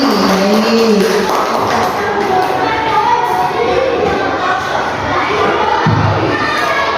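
An audience at a school discussion session at SD No. 1 Mengwi greets the discussion leader with loud, continuous crowd noise, cheering and excited shouting voices throughout.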